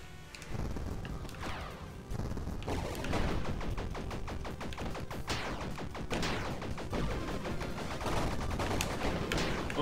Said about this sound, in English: We'll just shoot it with bullets.